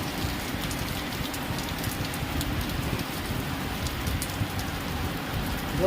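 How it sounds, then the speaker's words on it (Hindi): Heavy rain pours steadily outside an open building by a lift, a dense, constant hiss and patter of drops on surfaces close by, unbroken throughout. "ये देख सकते हैं आप लोग, बहुत बारिश हो रही है।"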